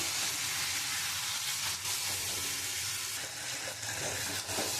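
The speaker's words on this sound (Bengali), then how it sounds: "আমি এখন আরেকটু কষিয়ে নেব।" Boiled jackfruit and potato being sautéed in a pan give off a loud, continuous sizzle and hiss, with brief dips as the pieces are stirred and turned.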